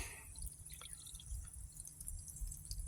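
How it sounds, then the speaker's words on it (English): Water trickles and drips steadily as the fill valve refills a gas water heater tank after flushing, a faint continuous liquid sound with small splashes and no talk. "I still have the fill valve filling the tank"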